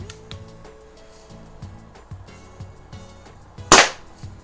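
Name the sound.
vintage air pistol being shot at target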